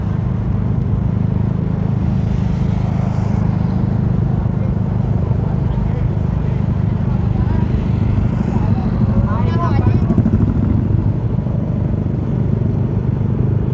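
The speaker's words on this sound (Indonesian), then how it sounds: "namanya knalpot rong, nggak mungkin ada yang berisik gitu, pasti berisik" A motorcycle with an open exhaust runs loud and rough with a steady low rumble throughout, people talking over it.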